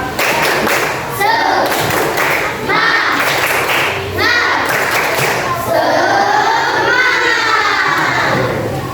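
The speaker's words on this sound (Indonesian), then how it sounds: "Coba tepuk semangat." A sixth-grade primary school class claps in rhythmic bursts during a classroom cheer, with children shouting and chanting along loudly and thumping sounds mixed in, the clapping coming in repeated waves.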